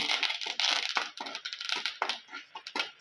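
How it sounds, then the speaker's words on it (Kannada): Mustard seeds pop and crackle rapidly in hot oil for tempering, a dense run of sharp close-up snaps with no voices. "ಸಾಸಿವೆ ಪಟ ಪಟ ಆಯಿತು"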